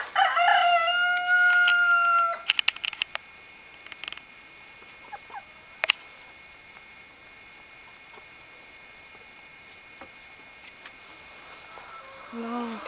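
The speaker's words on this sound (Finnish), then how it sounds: "Siinä oli tämän puolen kanat tällä hetkellä." A rooster crows loudly and close for about two seconds inside a henhouse full of chickens, then the coop falls quiet apart from scattered light clicks and soft shuffling.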